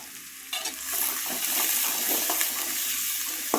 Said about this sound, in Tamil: திருவி போட்டு நல்லா கிளறி விடுங்க